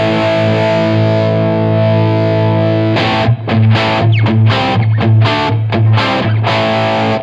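Electric guitar played through a Wampler Golden Jubilee overdrive pedal into a valve amp, pushed into crunchy distortion: a sustained ringing chord, then a loud run of rhythmic strummed chords with short gaps.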